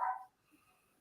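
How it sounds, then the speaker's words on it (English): A single short dog bark, quiet and somewhat distant, fading quickly into a faint room hush. "Sorry for my dog barking."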